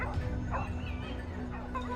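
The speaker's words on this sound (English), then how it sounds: "The hunting dogs pressured a target, their barking relentless, like the sound of a death toll." Hunting dogs bark and yip in a forest while pursuing a wild boar, repeated sharp barks over a steady low hum.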